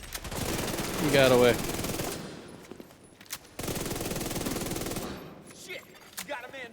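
Rapid automatic blasts from an ACS-12 shotgun in The Division 2, two long dense volleys split by a brief gap, with a voice talking over the firing.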